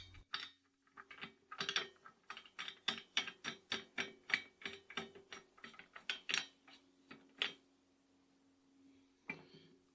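Hand-turned crank on a burger patty press lowering a new 15 cm pressing plate, giving a long run of quick ratcheting clicks and pawl ticks in regular bursts, close and clear, pausing briefly before one last short burst.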